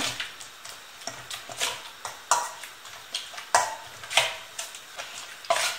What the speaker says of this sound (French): Je mélange le tout pour former une bonne charmoula.